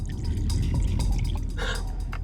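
Water is poured into a drinking glass at a restaurant table, giving a steady splashing, dripping trickle for about two seconds over a low background hum.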